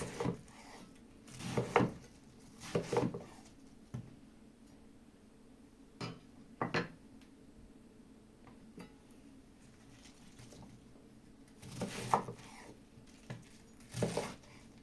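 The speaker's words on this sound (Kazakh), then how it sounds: "Содан соң капустамызды ірі етіп осылай турап шығамыз." A knife coarsely chops cabbage on a wooden board in short bursts of two or three strokes, separated by pauses, close by and fairly quiet.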